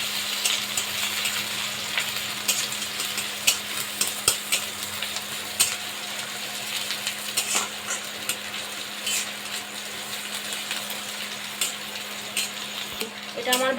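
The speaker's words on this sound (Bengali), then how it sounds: "তারপর দিয়ে দেবো ভালোভাবে এটা ভেজে নেব।" Ingredients frying in a pan for khichuri, a constant soft sizzle broken by frequent clinks and scrapes of a spoon stirring against the metal.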